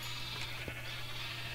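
A single short sheep bleat from the Minecraft video game sounds faintly over a steady low electronic hum, with no speech.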